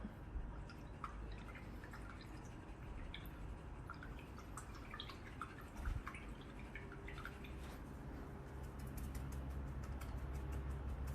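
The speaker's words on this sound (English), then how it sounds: "wash your brush out" An acrylic paintbrush being rinsed in a water cup, giving quiet, close, intermittent drips and light watery swishing over a soft background hum, with no talking.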